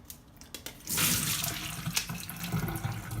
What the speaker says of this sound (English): So I'm going to wash them now. Some filtered water.